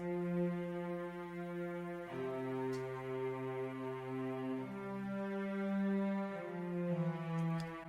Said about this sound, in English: And let's hear the cello part.